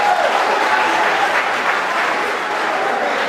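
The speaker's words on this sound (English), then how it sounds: "No clapping, please, ladies and gentlemen." Sustained audience clapping at a state gubernatorial election debate in Imo, Nigeria, a continuous, dense wash of applause from a crowd holding steady throughout at fairly close range.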